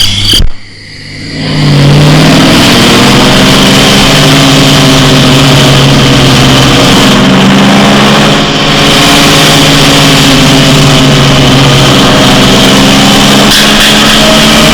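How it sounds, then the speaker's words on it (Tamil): A vehicle engine runs loud and steady close by, with a low rumbling drone that holds for the whole stretch after a brief dip near the start, and no talk over it. "வண்டி வந்துச்சு."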